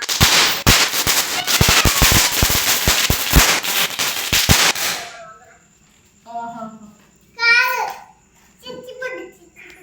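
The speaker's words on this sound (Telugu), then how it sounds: "కాదు, భూచక్రం." A bhoochakra ground-spinner firecracker at a Deepawali celebration crackles loudly with rapid sharp pops for several seconds, then stops, followed by excited children's voices talking.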